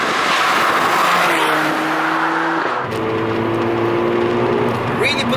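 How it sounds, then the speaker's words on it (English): A Mercedes-AMG A45 four-cylinder engine accelerates hard, with a loud droning tone that climbs through the revs, dips at a gear change, then rises again, heard from inside the cabin. "you do get a lot of engine sound coming into the cabin"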